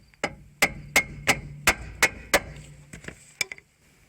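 Hammer tapping on a ball joint while removing a Subaru wheel bearing, a series of about eight sharp metallic knocks in an uneven steady rhythm, close and fairly loud, with no talk.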